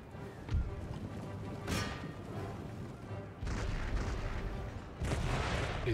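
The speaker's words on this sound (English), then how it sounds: "The artillery is doing good work." Cannon fire booms out in Empire: Total War as artillery pounds a battlefield, several heavy blasts spaced a second or two apart over a constant rumbling din of distant combat.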